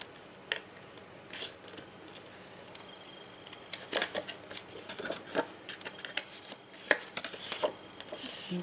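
Scissors snip through paper while a baby scrapbook album page is trimmed, giving a run of short, crisp cuts and clicks, sparse at first and then quicker and closer together, fairly quiet with no talking.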